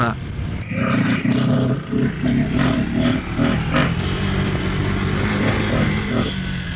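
Motorcycle engine and stock exhaust of a KTM 390 Adventure or Royal Enfield Himalayan, a steady close engine drone with slight revving under continuous talk.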